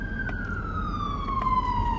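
An ambulance siren wails steadily as it passes, its tone sliding gradually lower, heard from a patrol car amid low road rumble, with no talking.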